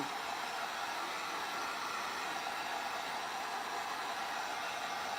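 A dryer blows a steady, loud, broadband rush of air without a break as it dries freshly painted furniture.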